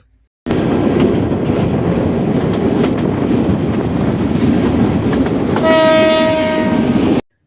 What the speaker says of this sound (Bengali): অবশেষে আমাদের ট্রেনটি রংপুর রেলওয়ে স্টেশন থেকে সাতটা ছাপ্পান্ন মিনিটে দিনাজপুরের উদ্দেশ্যে ছেড়ে গেল